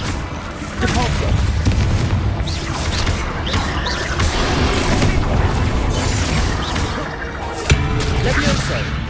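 Hogwarts Legacy spell combat with a Depulso push spell among rapid casts, a dense run of loud booms, crashes and magical whooshes, mixed with shouted incantations.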